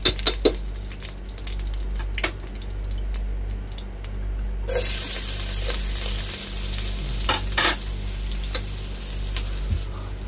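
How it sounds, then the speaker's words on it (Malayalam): Sliced onions (savala) go into melted ghee in a pan, followed by a sudden swell of loud, continuous close sizzling, with a few sharp clatters and stirring knocks around it and no voices. "അങ്ങനെ നെയ്യെല്ലാം ഒന്ന് മെൽട്ടായിട്ട് വന്ന് അതിലേക്ക് സവാള ചേർത്ത് കൊടുക്കാം"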